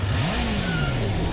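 Chainsaw revving up in the video game Kamihime Project, a short rising-and-falling engine whine with clattering buzz, loud and alone.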